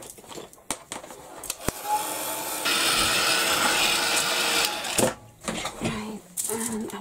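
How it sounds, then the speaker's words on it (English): A heat gun blasts structure paste in a steady, loud roaring hiss lasting a few seconds. It starts after scattered clicks and handling noises and is followed by more bumps and movement. "I'm just going to give this a quick blast with the heat gun"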